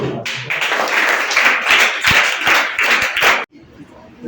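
Children clap together at a school farewell ceremony, a steady burst of clapping lasting about three and a half seconds before stopping abruptly.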